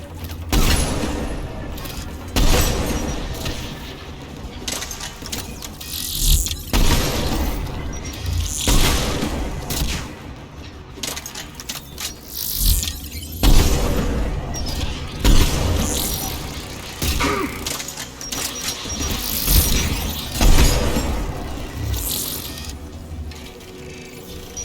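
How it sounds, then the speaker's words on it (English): Aircraft guns fire repeatedly in Mass Effect 3, loud booming bursts and mechanical clanks recurring every few seconds over a dense battle din. "Aircraft guns are up ahead."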